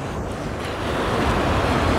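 Sea waves washing onto the sandy beach at Hải Hậu, a steady broadband surf roar with wind, close and continuous, swelling slightly louder toward the end, no voices.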